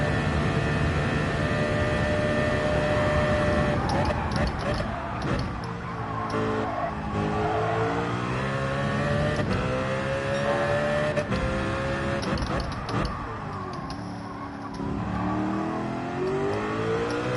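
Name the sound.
race car driving in Gran Turismo 7 video game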